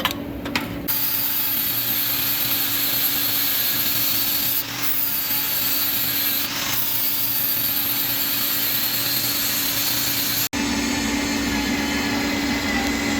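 A drill grinds steadily into wood for several seconds during a dump truck build, boring a hole for wiring into a junction box, a constant abrasive whir cutting off abruptly near the end.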